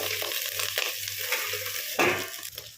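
Eggplant pieces fry in a covered pan over a medium gas flame, giving a steady soft sizzle with faint stirring scrapes, close and alone, with no talking.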